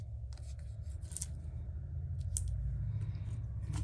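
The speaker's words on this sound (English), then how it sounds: "get my scissors so I can get me some dimensionals on these edges" Scissors snip and rough-chop cardstock pieces for a handmade Stampin' Up! paper craft card, a run of close, crisp cuts and rustles over a steady low room hum with no talking.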